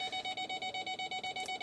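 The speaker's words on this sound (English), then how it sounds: "And you can hear the sensors going off." Parking sensors on a 2012 Ford F150 Lariat EcoBoost beep rapidly as the truck nears a pole. Short, even pulses repeat about every tenth of a second, loud and close, with no talking.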